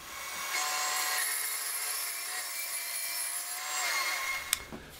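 An £80 Aldi bandsaw on a six-month-old blade cuts through wood with a steady rasping whine, close and continuous, before the cut ends and a sharp knock sounds near the close.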